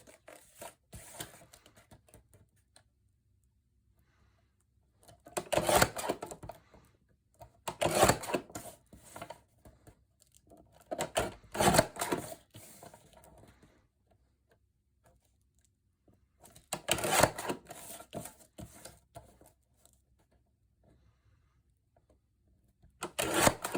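Paper for a Christmas ornament card is trimmed in several separate bursts of crisp cutting and scraping, close and fairly quiet, with near silence between passes and no talk.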